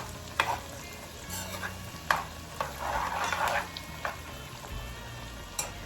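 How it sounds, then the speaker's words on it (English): Roughly chopped garlic sizzles softly in a hot pan during a Puerto Rican home dinner, with clinks and scrapes of a spoon stirring through it and a brief louder burst of frying midway. "I'm gonna give it a good mix just to spread my garlic"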